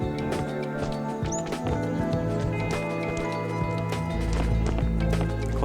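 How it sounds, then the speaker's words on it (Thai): Footsteps run across the floor inside a house in the survival game Last Island of Survival, a quick rhythmic patter of steps close by, mixed with a dense layer of game sounds and music. "อันนี้มีเสียงเท้าอยู่ในบ้านนะ"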